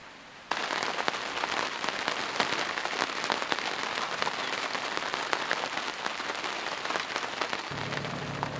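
Steady rain pours down after a sudden start and patters densely on surfaces close by with a continuous hiss, then a low hum comes in near the end.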